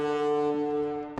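A foghorn from the video game Perception sounds as a long, steady, tonal blast. It holds at an even level for about a second and then cuts off with a brief thump, and no voice is heard.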